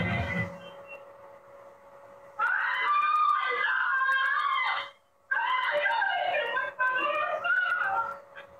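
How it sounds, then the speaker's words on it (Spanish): A woman screams for help as a thief grabs her to steal her phone on a street in San Martín de Porres, Lima; two long bursts of high, strained screaming, loud and close, with a brief break between them. "Son los gritos de auxilio de una mujer al ser interceptada por un ladrón."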